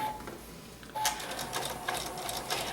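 Sewing machine stitching appliqué on an autumn table topper, a steady, fairly quiet mechanical whir that grows busier partway through and keeps running without pause.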